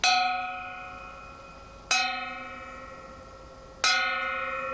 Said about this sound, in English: And then you will ring the bell 3 times slowly.